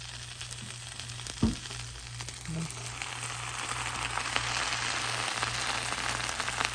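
Fish is laid into a non-stick pan of preheated mustard oil, with a sharp thump followed by a soft, steady sizzle and crackle that grows slightly and continues.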